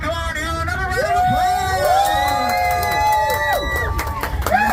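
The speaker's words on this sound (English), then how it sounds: "Can we go ahead and get a round of applause?" A crowd at a Six Flags Fright Fest show cheers and whoops loudly, with overlapping shouting voices and a dense roar of excited noise throughout.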